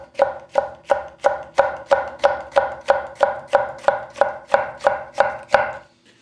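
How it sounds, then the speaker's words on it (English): A sharp Japanese kitchen knife, freshly honed on a 1000 grit stone, makes a test cut with about fifteen quick, even slicing strokes pushed forward and back, each one a crisp close stroke in a steady rhythm. "I'm just moving the knife forward and backwards"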